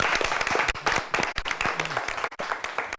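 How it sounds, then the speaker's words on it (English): A studio audience at a televised high school quiz competition gives a round of applause: many distinct, sharp claps in an uneven patter, fairly close and clear, thinning briefly near the end, with no talking. "Congratulations and a nice round of applause."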